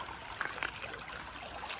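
A small creek trickles and burbles steadily in a bamboo forest, soft and close, a continuous gentle flow with faint splashy flickers and no voices.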